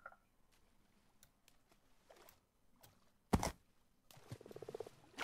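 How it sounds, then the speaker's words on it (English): Frogs croak in a Minecraft mangrove area, faint and scattered croaks among soft taps and clicks, with one sharp loud burst and a rapid fluttering croak near the end. "I hear frogs nearby."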